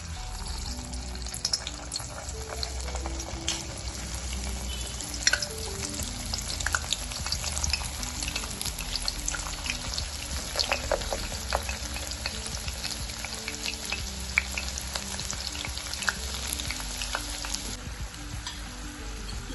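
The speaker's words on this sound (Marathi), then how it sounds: "आता आपण हे फ्रेंच फ्राईज तळून घेऊया." Continuous dense bubbling and sizzling of french fries deep frying in oil, with scattered crackles and pops throughout.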